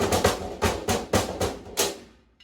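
A loose, untightened snare drum is struck about seven times in an uneven rhythm, each hit dull and boomy with a short buzzy decay.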